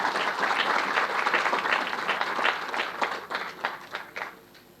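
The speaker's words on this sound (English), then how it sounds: "Please welcome them with a round of applause" Audience applause welcoming a school group performing at a defence conference, a steady stretch of clapping that thins out and fades toward the end, leaving a few scattered claps.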